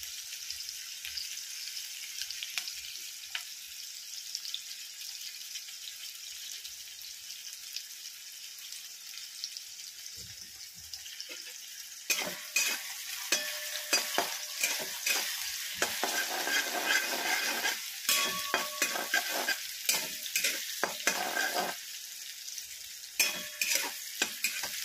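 Onion being sautéed in a pan over a full gas flame, a steady sizzle that grows louder and busier halfway through as the pieces are stirred and scraped, with no talking.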